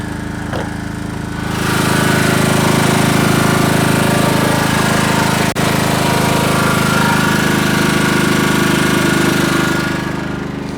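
Portable generator running inside a shed as the door opens, a steady loud engine drone with a buzzing rattle that swells sharply after the first two seconds and stays constant, with no talking.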